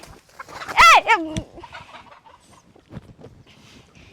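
A hen on a home farm lets out a loud, close burst of squawking clucks, then softer scattered clucks and rustling in a quieter yard.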